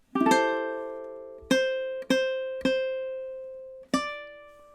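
Ukulele playing measure 17 of a song, five strummed chords with the first ringing longest, each attack bright and close, then decaying clearly, with no voices.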